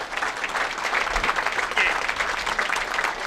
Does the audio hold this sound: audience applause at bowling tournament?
yes